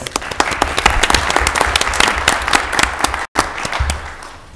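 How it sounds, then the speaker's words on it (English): A round of applause at a county commission meeting honoring retirees, steady clapping from a modest audience lasting several seconds, close and fairly loud with a brief dropout midway. "Let's give them a round of applause."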